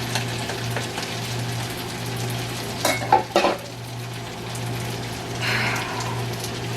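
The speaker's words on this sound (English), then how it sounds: "Stir in the pasta. The shrimp." Shrimp and linguine pasta are stirred in a sizzling pan for scampi-style shrimp linguine, a low steady frying hiss with a couple of sharper scraping clatters near the middle and no talking.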